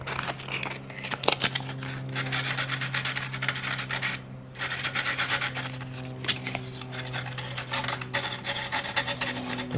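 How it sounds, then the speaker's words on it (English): Carbon fuselage of an RC glider being lightly scuffed, a steady close rasping rub with repeated strokes and one brief pause midway, no voices. "Next thing is to just lightly scuff up"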